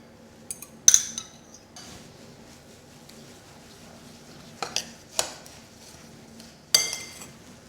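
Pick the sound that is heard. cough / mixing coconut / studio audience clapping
mixing coconut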